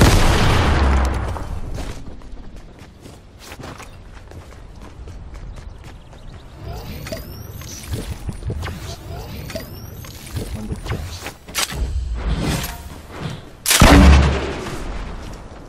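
Game battle with enemies firing back: repeated gunshots and booming blasts at irregular intervals, loud and dense, with a heavy burst near the end.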